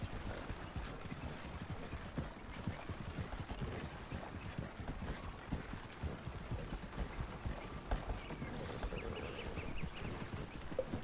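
Horse hooves clip-clop in a steady, brisk rhythm while riding in Red Dead Redemption 2, continuous and moderately close over a faint outdoor ambience.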